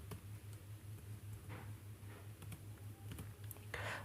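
Soft scattered key clicks from a computer keyboard as a captcha code is typed, faint and irregular over a steady low electrical hum, with a slightly louder burst of clicks near the end.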